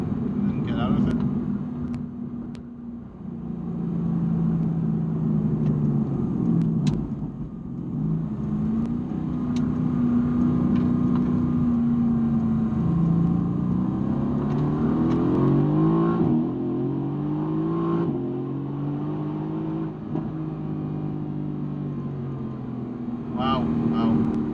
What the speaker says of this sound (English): you can hear how the race mode shift program will again downshift as we come into the roundabout and then get out of it